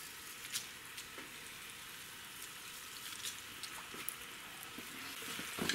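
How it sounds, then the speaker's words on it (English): Onion and crushed red chili flakes sauté in a pan, giving a faint, steady sizzle with soft scattered crackles throughout, no voices. "And now we just need to saute this."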